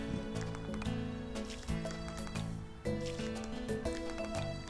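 Horse hooves clip-clop in the Harvest Moon DS: Sunshine Islands farming game, a steady rhythmic trot layered over cheerful background game music, with no talking.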